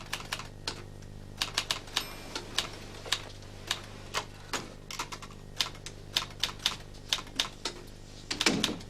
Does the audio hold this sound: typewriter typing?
yes